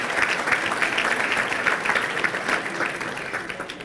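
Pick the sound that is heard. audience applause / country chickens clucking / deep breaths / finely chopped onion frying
audience applause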